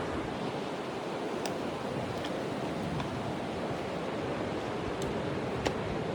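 Sea surf rolling in below a steep hillside, a steady broad wash of waves with wind noise on the microphone, continuous and fairly loud throughout with no talking.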